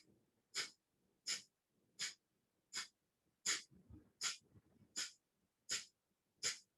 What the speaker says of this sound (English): go ahead and begin your 50 cycles or 50 pumps of your Kapalabhati